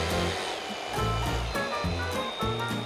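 A jigsaw runs nonstop with its trigger held down while the speed dial is turned, the motor's buzzing whine rising and falling in pitch, close and steady, with no talking.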